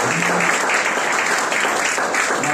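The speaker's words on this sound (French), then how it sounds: "on acclame le Seigneur" A church congregation at a Sunday worship service applauds continuously, a dense, steady wash of many hands clapping at close range, with a faint voice briefly audible beneath it.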